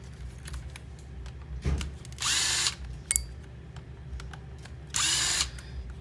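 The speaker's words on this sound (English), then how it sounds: "Actually, a smaller Phillips screwdriver." A small Phillips screwdriver takes screws out of a delicate U-shaped button circuit board during a Lexus ES350 touch screen digitizer repair. It gives several short whirring bursts with faint clicks between them, close by and fairly quiet.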